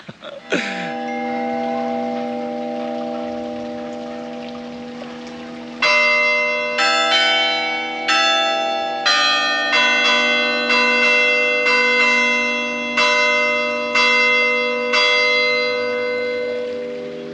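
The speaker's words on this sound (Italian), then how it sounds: "Poi la campana forte, fortissima." A church bell rings loud and close: one heavy strike with a long fading hum, then a steady series of about a dozen ringing strokes, each one reverberating into the next.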